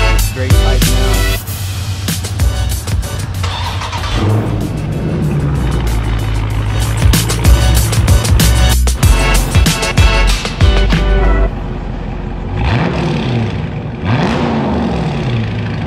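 A 2020 Dodge Charger Scat Pack with a muffler delete and straight pipes roars loudly up close, revving hard several times with crackling bursts before easing off into a lower rumble.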